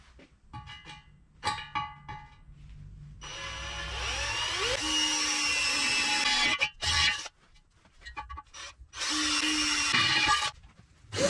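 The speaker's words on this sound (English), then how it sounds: "After the pipes are welded, I will drill an 8 mm hole." A power drill bores an 8 mm hole into a welded pipe made from a refrigerator compressor project, in two loud whining bursts with grinding bite, separated by pauses and clicks.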